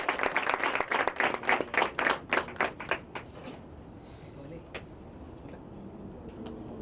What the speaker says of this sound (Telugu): అందరూ కూడా చప్పట్లు కొడతారు